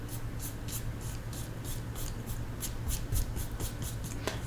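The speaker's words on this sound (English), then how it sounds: "Cross-hatching is usually with drawing, but it's basically doing this type of thing." A paintbrush makes quick cross-hatching strokes on paper: a close, regular series of soft, brisk swishes, about a dozen in a steady rhythm, with a faint background hum.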